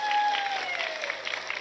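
Brief burst of audience clapping from a village religious gathering, a short steady patter of many hands with a faint tone running underneath.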